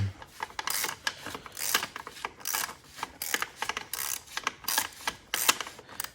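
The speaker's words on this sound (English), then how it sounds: "let's get the ratchet, boom, and tightening mode, let's tighten her down" A ratchet clicks in bursts while tightening the oil drain plug on an MK5 Volkswagen Jetta TDI, with rapid pawl clicks repeating in close, fairly quiet strokes and short pauses between them.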